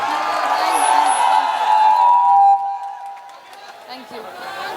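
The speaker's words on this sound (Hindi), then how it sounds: "मैं चाहूंगा कि चारों तरफ से एक बार बिहार की बेटी के लिए जोरदार ताली हो जाए" Crowd at a live stage show in Bihar cheering and whooping for a Bhojpuri singer, a loud sustained roar that swells then fades after a few seconds into scattered shouts.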